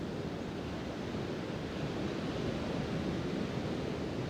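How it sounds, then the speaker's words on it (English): Ocean surf rolls in a steady, dense wash of broadband noise, waves breaking continuously with no clear pauses, fairly close and unaccompanied by voices. "Listen to the waves."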